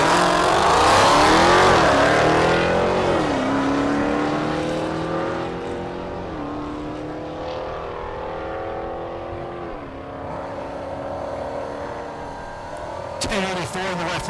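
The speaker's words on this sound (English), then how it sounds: "Connor Pariah in the right lane, the Mustang. Left lane, that's Brian Greenlee in the Challenger." A Ford Mustang and a Dodge Challenger drag race at Thunder Valley in Noble, Oklahoma. The engines roar hard through several rising gear pulls, loud at first and then fading into the distance.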